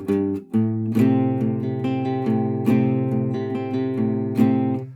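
A guitar walk-up riff: a few rising bass notes lead into strummed, ringing chords, played up close without talking.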